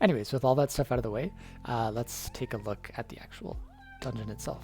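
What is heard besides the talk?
cat meowing loudly in the background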